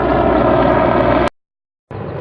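Rotor drone of a helicopter passing over a sandy running spot, loud and steady before cutting out abruptly to silence, then resuming more faintly for the final moments.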